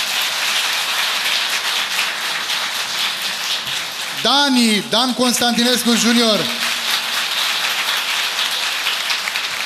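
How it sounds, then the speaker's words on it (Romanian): Sustained applause from an audience at a Christmas carol concert held in a prison, steady throughout, with a voice announcing performers' names over it midway. "Să mai aplaudăm o dată Ana Maria Nicoară"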